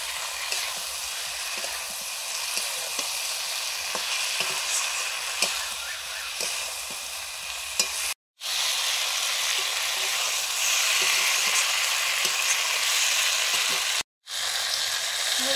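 Cauliflower and potato pieces fry in spiced oil while being stirred, giving a steady, close, continuous sizzle with soft stirring scrapes, broken twice by short silent cuts.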